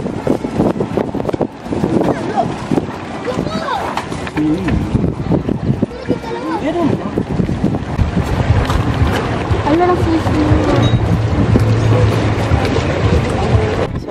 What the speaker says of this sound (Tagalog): Ang hangin kasi, sobra.